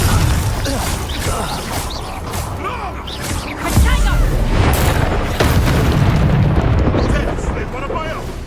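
A Confringo spell explosion in the Hogwarts Legacy video game: deep, loud booms burst out around the middle of the passage, layered over dense game music and effects while voices speak.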